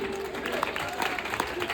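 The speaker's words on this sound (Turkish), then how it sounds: "Alkışlar Halil Ergün." Steady audience applause on a Turkish television show fills the space, a dense patter of many hands clapping at moderate volume with some voices mixed in.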